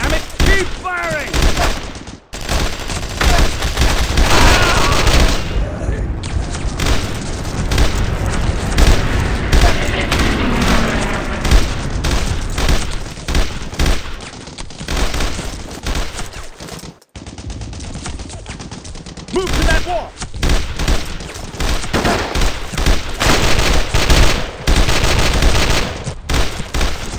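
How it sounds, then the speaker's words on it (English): Battle gunfire in the Brothers In Arms Hour of Heroes game forms a loud, dense, continuous barrage. Rifle and machine-gun bursts mix with heavy booms and briefly drop out twice. "Keep firing, dammit! Keep firing!"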